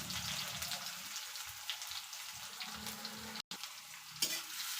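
Chopped onion and garlic sizzling in hot oil in a pan, a steady close crackle with occasional stirring clinks and one brief dropout.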